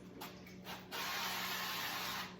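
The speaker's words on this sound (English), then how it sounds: "we're going to spray" A short hiss of aerosol cooking spray onto a muffin pan, a few quick bursts followed by one longer steady spray, close by.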